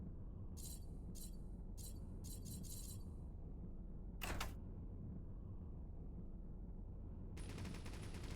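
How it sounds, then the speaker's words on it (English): An elite point defense cannon in the space game Avorion fires on auto-targeting in quick clipped bursts, followed by a sharp crack and then a steady buzzing stream of shots, all over a low constant ambient hum. "Elite point defense cannon with auto targeting."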